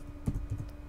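A few soft, quick keystrokes on a computer keyboard, faint and close, tapping in a short irregular rhythm.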